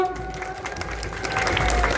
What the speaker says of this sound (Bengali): একটা জোরে হাততালি হয়ে যাক মেলা কমিটির জন্য